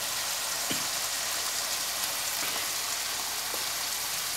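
Chicken with carrots and cabbage frying in a pan gives a steady, moderate hiss with a few soft stirring clicks.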